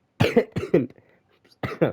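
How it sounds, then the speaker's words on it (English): Several harsh coughs in two bursts with a short quiet gap between, close and fairly loud, with no talking. "Sorry, I still have a lasting cough."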